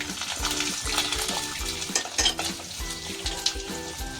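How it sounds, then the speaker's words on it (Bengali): Peanuts and coconut frying in a pan, a steady close sizzle with spatula stirring scrapes and light clinks of metal on the pan throughout. "এই বাদাম, নারকেলগুলো ভাজা ভাজা হয়ে এসছে"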